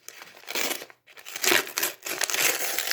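Packaging of a Zombaes Forever mini gothic doll mystery box being torn open, with close, crisp crinkling and tearing in bursts and a brief pause partway through.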